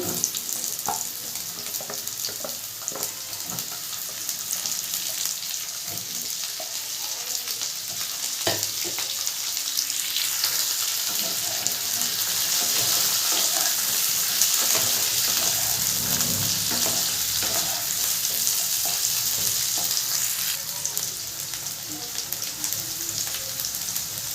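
Cut potato pieces sizzle and fry in hot oil for a Bengali-style rohu fish curry with potatoes, a steady loud crackling hiss throughout with occasional stirring clatter, no talk.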